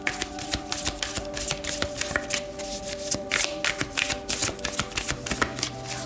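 Oracle cards being shuffled by hand, a close, continuous run of soft riffling flicks and taps in an uneven rhythm, with no talk.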